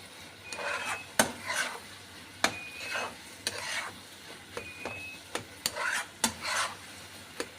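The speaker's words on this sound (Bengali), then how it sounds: "এটা আমি ভালো করে নেড়ে নেড়ে নামিয়ে নেব" A spatula stirs and scrapes carrot laddu mixture in a pan over the heat, with repeated sharp metallic taps and scrapes over a soft sizzle, close and fairly quiet.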